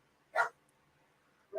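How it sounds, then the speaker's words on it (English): Dog barking in the background, two short separate barks about a second apart, moderately loud with no voice over them. "I know that you're hearing the dogs bark"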